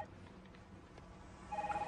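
A telephone rings in an office at a mortgage and loan company, a steady ringing tone that comes in near the end after a quiet room stretch.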